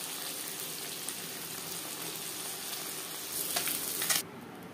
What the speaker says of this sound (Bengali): পাঁচবারে আমি মাছ ভেজে নিয়েছি।